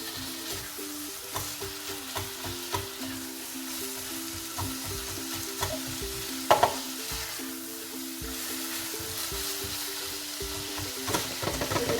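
Onion, ginger and garlic sizzle steadily in a hot pan, with occasional scrapes and clinks of stirring and no voices.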